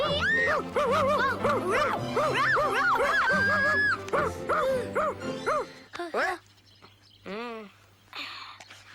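A dog barks and yips in a rapid run of repeated, close, loud calls that fill the first several seconds, then breaks into a few separate whining barks against a steady low hum.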